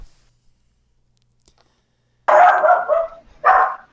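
A puppy barks twice, close and loud, with a short gap between the sharp yaps and silence before them.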